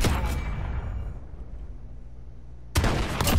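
A loud gunshot from a competitive shooter video game opens, its echo trailing off into quiet before a second burst of sharp shots breaks in near the end.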